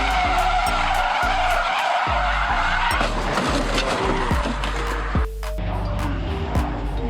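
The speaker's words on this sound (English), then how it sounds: "An emergency braking phase. It burns out the tires of the car." A sports car brakes hard in an emergency stop, its tires squealing and skidding in a loud sustained screech over a droning engine, with a sharp jolt or thump near the end.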